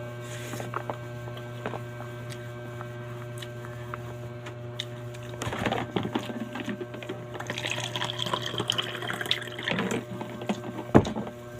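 Cold water pouring and splashing in a home kitchen, faint at first over a steady electrical hum, then a louder, denser trickling stream in the second half.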